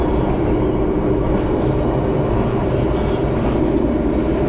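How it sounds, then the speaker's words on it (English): Rumble of a sleeper train running from Jakarta to Surabaya, a loud continuous low roar of rolling carriage noise from inside the car, with no clear wheel clatter or speech. "I'm getting like shoved left and right from this train right now."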